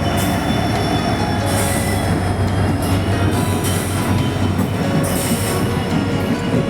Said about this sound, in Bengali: একটা প্যাসেঞ্জার ট্রেন আসছে কুচবিহারের উদ্দেশ্যে।